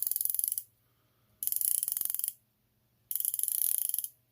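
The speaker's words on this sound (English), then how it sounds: "Unidirectional bezel. Let's give it a turn." Unidirectional bezel on an Aragon Divemaster A334 watch turned in three short bursts, each a quick run of crisp, close ratcheting clicks separated by brief silences.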